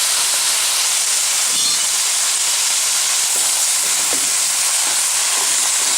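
Ground beef and sausage meat sizzle steadily in a pan as they brown, a continuous close hiss with faint scrapes and taps of stirring throughout.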